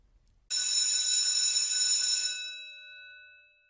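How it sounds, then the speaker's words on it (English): A school bell rings, starting abruptly with a bright metallic tone. It holds steady and loud for about two seconds, then rings on and fades out, alone with no talk. "That's the bell."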